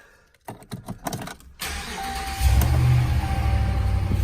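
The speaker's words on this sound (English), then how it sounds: "While the engine fires up" A 2017 Ram 1500 SLT crew cab truck starts up, with a few clicks and a starter crank, then the engine catches and settles into a loud, steady idle rumble.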